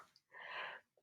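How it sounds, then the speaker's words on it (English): A single sneeze, short and fairly quiet, preceded by a quick inhale and followed by a faint breath. "I feel like I have to sneeze"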